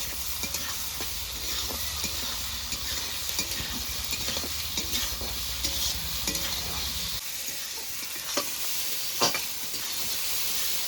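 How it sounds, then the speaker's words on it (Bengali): Chopped capsicum, onion and tomato frying together for Maggi, a continuous loud sizzle with repeated scraping stir strokes throughout, close up with no talking. "এবার ভালো করে সব কিছু মিশিয়ে একসঙ্গে ভেজে নেব"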